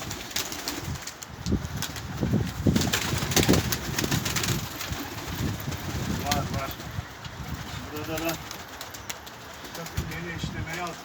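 Baska pigeons coo in short repeated phrases amid a busy background, with people talking over much of it and occasional wing flutters.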